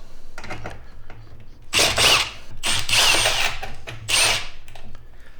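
A power driver spins out the many screws holding a Harbor Freight power strip casing together, in several short loud whirring bursts separated by brief pauses and small clicks of handling.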